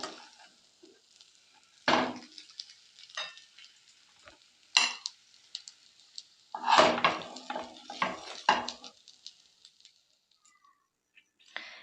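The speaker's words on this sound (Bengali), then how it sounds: "এবার আমি এগুলো পাত্রে নামিয়ে নেব।" Cooked vegetarian banana-flower chop filling is spooned out of the pan into a dish, with intermittent metallic scrapes, knocks and a few sharp clinks separated by quiet gaps.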